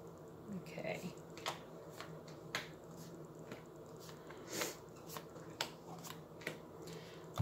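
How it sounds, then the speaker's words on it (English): A deck of tarot cards is shuffled at close range, with a series of soft riffling and tapping bursts spread through the clip beneath quiet background hiss. "Let me just give it a few shuffles here."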